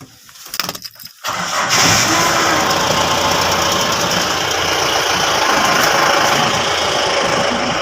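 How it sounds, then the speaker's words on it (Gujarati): A farm vehicle's engine cranks with a few uneven bursts, then catches and settles into a loud, steady idle that runs close by to the end. "ગાડી આપણે કાઢી લીધી છે ને આપણે પાઇપ પણ તૈયાર જ છે"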